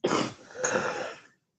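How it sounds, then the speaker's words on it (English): A man coughs hard in one close, harsh burst, a short pause, then a second rough cough trailing off into silence, with no talking. "I got a hell of a cough."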